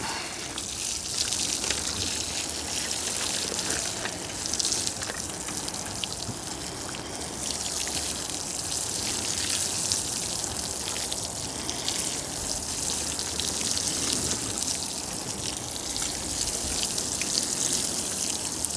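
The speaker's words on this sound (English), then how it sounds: "just gonna get these watered in" Water poured over freshly planted rows of peas and fava beans in a dry Alaska garden bed, a continuous soft gushing and splashing that runs steadily for nearly twenty seconds, fairly close, with no voices.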